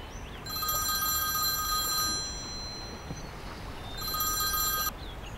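A landline telephone bell rings indoors in two clear, sustained bursts separated by a pause, bright and close with no voices over it.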